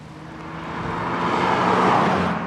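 Smooth running of a BMW E46 325Ci straight-six engine, a steady low hum that swells gently louder midway, with no talk over it.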